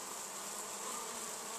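Dense, steady hum of a 2.5-pound package of honey bees, a continuous close drone with no breaks and no talking.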